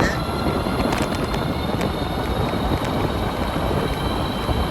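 A farm bike's engine runs steadily under dense, gritty broadband noise, likely wind and road roar as it rides at speed, loud and unbroken throughout with no talking.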